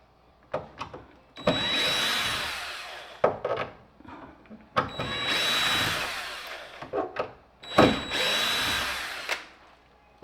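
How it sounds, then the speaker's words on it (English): A power drill backs screws out of door hinges one at a time, in three long whirring bursts with short pauses and light knocks between them, close and loud, with no speech. "So we got our drill bit. So now we're just going to go ahead and go 1 hinge at a time and just remove the screws."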